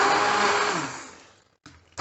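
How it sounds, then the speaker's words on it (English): A stick blender whirs steadily as it purees roasted red pepper soup with chillies and tomatoes, a loud, close motor whine that winds down and stops, then briefly restarts. "you've also got a stick blender"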